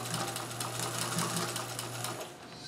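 A Singer sewing machine fitted with a blind stitch attachment runs steadily while stitching a hem, giving a fast, continuous rapid clatter at close range with a constant motor hum, the hum easing near the end.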